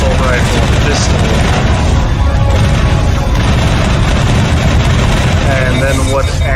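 Assault rifle and pistol fire in the Mass Effect game: a dense, loud, continuous wash of gunfire and booming impacts that never lets up, with a voice talking through it.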